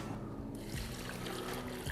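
Two litres of water poured into a pot for mutton leg soup, a soft, continuous trickling pour that is close but quiet, with no voices.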